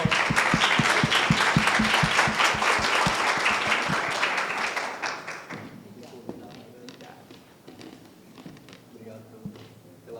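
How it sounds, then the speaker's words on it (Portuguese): An audience at a Brazilian business talk on processes claps loudly for about five seconds, with a few heavy rhythmic thumps in the mix, then the applause fades out as a voice takes over. "Palmas, pessoal."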